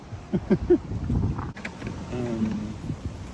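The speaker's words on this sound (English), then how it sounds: "Man, it's windy here." Gusty wind buffets the microphone with a low rumble throughout, while a person talks briefly in the first half.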